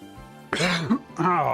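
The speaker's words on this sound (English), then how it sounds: "Oh, stupid cough." A close, harsh cough bursts out, followed by throaty, voiced grunting sounds.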